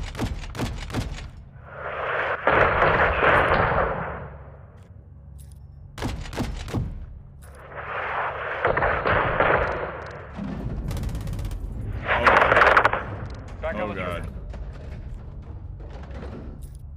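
Gunfire in the Call of Duty MW2 campaign during a fight with cartel gunmen at a gas station, coming in three loud, dense bursts with sharp thuds and brief gaps between them.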